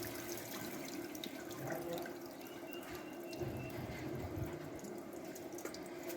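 Water runs and splashes while rice is washed in a Sri Lankan kitchen, a continuous pouring, rushing wash of liquid with faint drips, steady and fairly close throughout.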